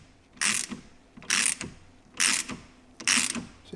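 A press tool is tightened to force the axle back out of the pressed wheel bearing on an Audi Q7, Touareg or Cayenne. It gives four loud ratcheting bursts at a steady rhythm, with quieter mechanical clicks between them.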